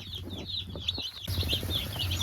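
Newly arrived baby chicks peep continuously in a brooder, a flock of small high chirps overlapping close by with soft rustling and a low steady hum.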